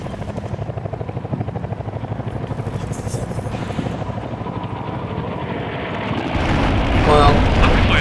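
A military helicopter in the war game Combat Mission Shock Force makes a steady rhythmic rotor chop that builds louder toward the end, with a voice talking over it.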